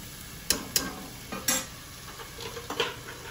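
Soaked rice is poured into a hot pot for Kandiginjala biryani, producing a sizzling, stirring wash with a few sharp clinks of a utensil against metal, close and fairly quiet, with no talk.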